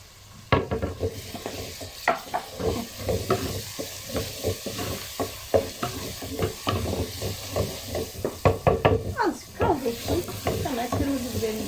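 Sautéed onions with tomato paste stirred in a pan, with a steady sizzle under repeated scraping and clinking strokes of a utensil against the pan, close and fairly loud, continuing across the clip.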